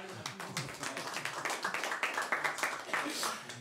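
Scattered hand clapping rises in a studio for a guest named Florian, a modest cluster of uneven claps lasting a few seconds, with a voice briefly audible under them.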